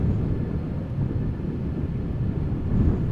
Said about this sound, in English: Plenty of wind.